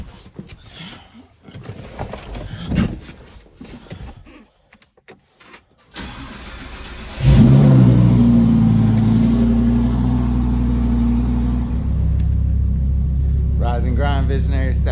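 A 1995 Mitsubishi GTO engine rumbles loudly and steadily while the car drives, its low, sustained roar starting partway in after some scattered handling noise and continuing to the end.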